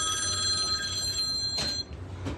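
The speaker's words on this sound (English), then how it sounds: "the phone rang" At a burger restaurant, a telephone rings with a steady electronic trill for about a second and a half, then breaks off, leaving faint clatter and room noise.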